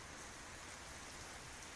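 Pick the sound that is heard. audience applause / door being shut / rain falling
rain falling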